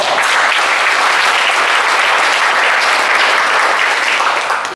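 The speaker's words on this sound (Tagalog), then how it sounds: "Amen. Pumalakpak ngayong matibay." A church congregation claps loudly and steadily together, a dense unbroken wash of applause that fills the space at full strength and only tapers at the very end.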